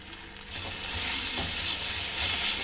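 Garlic paste fries with golden-brown onions in a pan, a steady close sizzle that swells a little louder after the first half-second and hisses on evenly.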